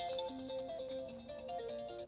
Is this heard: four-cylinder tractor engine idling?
no